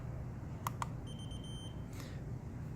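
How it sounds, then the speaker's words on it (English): Two quick electronic beeps in close succession from a Regency gas fireplace receiver syncing with its remote, followed by a faint sustained tone, over a steady low background hum. "That double beep was a confirmation that they're in sync now."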